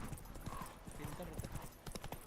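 Roach, the horse in The Witcher 3 video game, trots with rhythmic hoof clip-clops under someone talking casually throughout.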